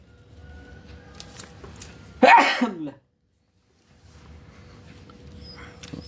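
A single sharp sneeze bursts out close and loud, followed by about a second of silence, with a faint room murmur before and after.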